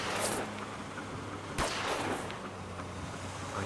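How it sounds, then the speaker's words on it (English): Fireworks go off in a video game scene, with a sharp explosive crack midway among rumbling bursts and crackles over a low, steady background hum. "Fireworks."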